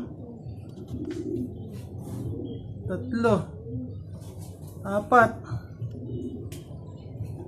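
Racing pigeons arrive at a loft during a club race, giving a few soft coos and brief flutters around 3 and 5 seconds while a man counts aloud over steady background noise.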